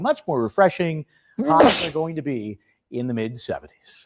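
Sneeze from a person on a morning television show, a sharp burst cutting between stretches of someone speaking close up.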